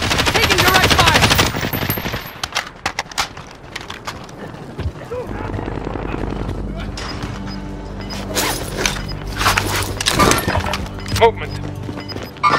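Bursts of automatic gunfire and mechanical clatter in a multiplayer trios battle royale shooter match, loud at the start and then recurring in sharp volleys over a steady bed of game sound with voices.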